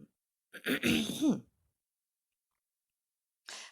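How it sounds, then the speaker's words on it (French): A single throat clearing, close and moderately loud, followed by silence and a brief faint rustle near the end. "ça me fait racler la gorge"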